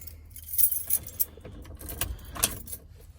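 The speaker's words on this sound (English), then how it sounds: "we're going to take our keys, put them in there" Keys jangle and clink in several quick, close bursts, with soft metallic rattling between them in an otherwise quiet space.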